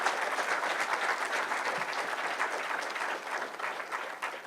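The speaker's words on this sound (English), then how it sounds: "may I request all of you to give a big round of applause to him" An audience at a memorial lecture applauds the lecturer with a continuous, moderately loud round of clapping that holds steady throughout and dips slightly at the end.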